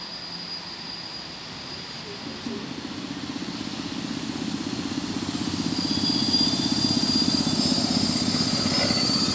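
EP07 electric locomotive hauling a TLK Roztocze passenger train past Brzesko station, a rolling rumble and rail clatter that grows steadily louder as it approaches.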